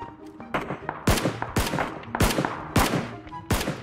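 Gunfire in the battle royale shooter PlayerUnknown's Battlegrounds: loud, sharp single shots spaced about half a second apart, each with a ringing tail, repeating steadily through the clip with no talk.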